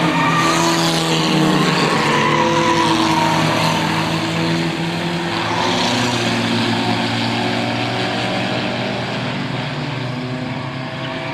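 Race cars lapping a road racing circuit in a 1998 event, with a sustained loud engine roar and tire noise that swells and fades slightly as the machines pass, with no voices over it.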